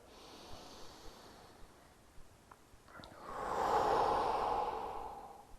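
A slow, deep breath during a beginner's yoga stretch for sciatica: a short sniff and small stirring noises, then one long, soft, airy exhale rising and fading, close and alone with no talk.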